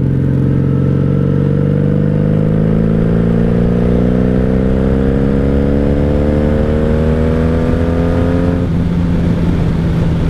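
A 1997 Honda Magna 750 VF750C motorcycle riding, its engine a loud continuous drone rising steadily in pitch as it accelerates, then dropping suddenly near the end as it shifts, with no talk.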